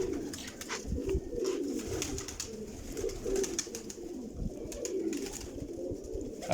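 Kamagar pigeons coo steadily at close range, low throaty calls repeating over constant background rustle and faint chirps, with no talking.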